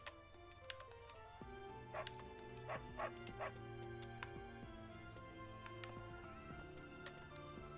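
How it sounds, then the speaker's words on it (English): A dog in the video game Fire Emblem: Three Houses gives several short barks and yips over a soft musical background, the barks clustered in the middle and spaced apart. "Do they let me pet the dog?"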